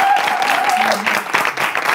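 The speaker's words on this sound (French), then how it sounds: "Applaudissez pour" An audience at a live stage show welcomes a performer with loud, continuous applause, crowd clapping close and full, with a faint voice and tonal sound briefly mixed in.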